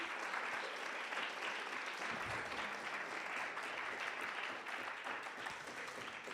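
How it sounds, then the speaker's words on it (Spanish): A university audience applauds in a dense, sustained wash of many hands clapping, steady and fairly distant throughout with no pauses or voices standing out. "vamos a brindarles un aplauso final a nuestros compañeros"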